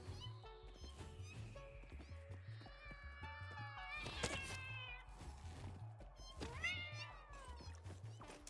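A hostile cat creature in the factory-building game Satisfactory attacks, giving repeated meow-like cries and a shrill caterwaul over a steady, rhythmic game music bed, with no talking.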